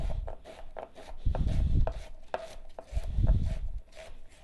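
A knife slices through an onion on a cutting board in a series of crisp, close chops, with short pauses between bursts of cutting; no one speaks.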